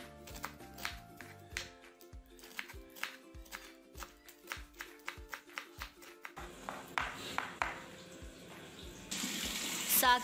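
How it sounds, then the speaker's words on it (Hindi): Chopped saag greens being washed in an open vessel: quick knife-like taps give way to swishing, splashing water that grows louder toward the end, close by, with faint music behind. "साग की कटिंग करने के बाद अब हम इसे खुले बर्तन में अच्छे से धो लेंगे"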